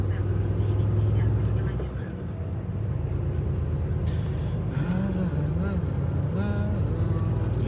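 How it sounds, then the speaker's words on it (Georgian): Many cars moving along a busy city road, a steady engine drone and whir of passing vehicles with a rising and falling tone midway, while a person talks over the traffic. "ამდენი მანქანა მოძრაობს."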